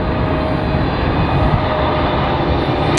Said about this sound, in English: we got China Southern Cargo 471 inbound here from Anchorage, Alaska